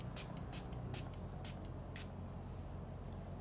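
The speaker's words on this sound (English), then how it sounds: "I love to go in with my setting spray, with the same spray I used the other time" Blossom vitamin C setting spray misted onto a face, five short hissing pumps in a quick regular rhythm, close and clear over a low background rumble.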